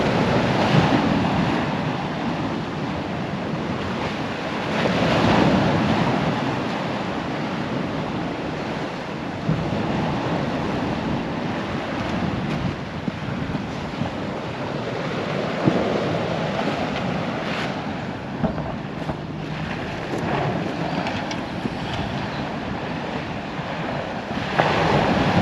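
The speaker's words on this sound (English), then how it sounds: "There's a bit of chop out there now, the wind getting up a bit." Waves and choppy sea wash steadily off the Holderness coast near Tunstall as the wind picks up, with gusty wind buffeting the microphone throughout, loud and continuous with no talk.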